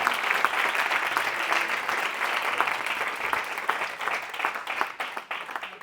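Audience applause fills the room steadily, a dense wash of many hands clapping with no voices over it, holding for about six seconds and thinning slightly toward the end.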